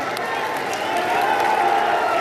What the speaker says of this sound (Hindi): तो एक बार हाथ उठाकर ताली सब लोग बजाइए